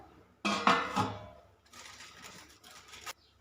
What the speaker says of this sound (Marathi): पुन्हा एकदा झाकण लावूया